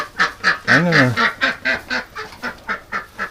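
Ducks and geese at nests quack and honk close by in a rapid, rhythmic run of calls, with one longer drawn-out honk early on, loud and alone without talk.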